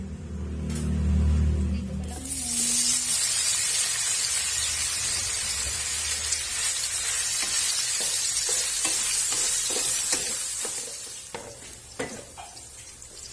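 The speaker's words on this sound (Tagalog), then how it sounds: "iprito ko na yung hotdog sa kayong patatas at carrots" Hotdog hits a hot pan and sizzles loudly and steadily, with occasional clinks of a utensil stirring toward the end; a low voice murmurs briefly at the start.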